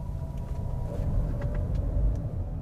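A steady low engine hum with a mild rumble as a Honda CR-V Hybrid drives and its gasoline engine kicks in, the motor running smoothly in the background without sharp changes.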